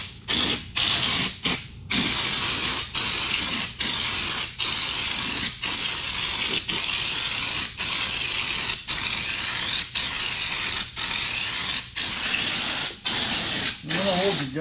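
Spray gun applying Raptor bed liner to a Honda Pioneer 700-4 side-by-side, heard as a long run of loud, steady hissing bursts broken by brief regular pauses, close up with no talking.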